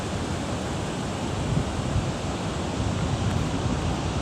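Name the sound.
large ocean waves breaking near Pismo pier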